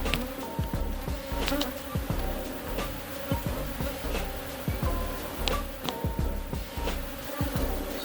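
Bees buzz continuously around a hive being pulled out of a box, a dense, steady insect drone with individual bees flying close past now and then.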